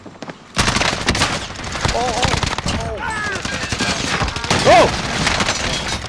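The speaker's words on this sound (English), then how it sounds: "Taking fire! Watch your fucking fire! Taking fire!" Rapid automatic gunfire in Call of Duty Warzone on the Verdansk map, loud sustained bursts with sharp cracks running through the whole stretch, while a player shouts briefly over it.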